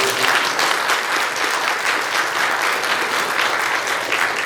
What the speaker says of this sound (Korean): 여기 그분들 계신데 박수 한번 쳐드리세요.